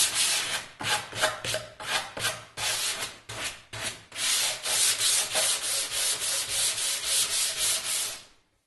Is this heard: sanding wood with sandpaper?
yes